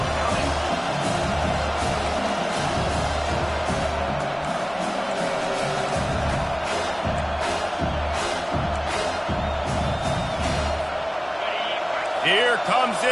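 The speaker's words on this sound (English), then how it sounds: "Here comes this home crowd as the defense tries to get off the field on 3rd down." A home crowd in an NCAA football video game roars steadily through a third-down defensive stand, loud and sustained with whoops and swells, while a commentator talks over it.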